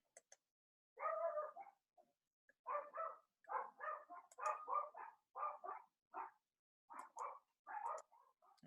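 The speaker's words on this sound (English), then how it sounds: "I'm sorry if you hear the dogs barking outside." Dogs barking outside, a string of repeated muffled barks heard at a distance, coming in short bursts with pauses between.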